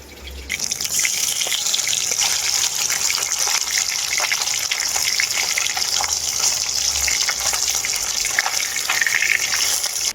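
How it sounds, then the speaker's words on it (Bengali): Fish frying in hot oil in a home kitchen, a steady bright sizzle and crackle holding at an even loudness throughout, close by, with no talking. "তেলটা খুব ভালোভাবে গরম হয়ে গেছে মাছগুলো ভেজে নেব"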